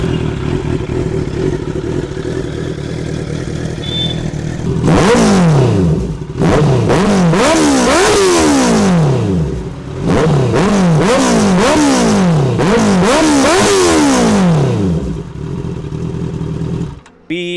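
Kawasaki Z900 motorcycle engine idling, then revved hard in repeated bursts that rise and fall in a steady rhythm, loud and close, with a short quiet spell between the groups of revs.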